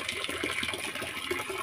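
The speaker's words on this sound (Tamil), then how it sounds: "தண்ணி ஒரு பக்கம் வந்துட்டு இருக்குது." Water runs in a soft, continuous trickle beside a rocket stove during outdoor cooking, faint and steady with no speech over it.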